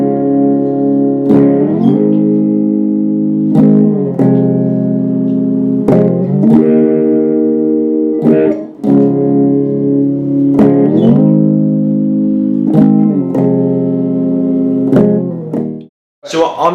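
Strummed guitar chords from a song, played with a capo in a steady repeating pattern, each chord rung out loud and close with sharp strum attacks and sustained tones.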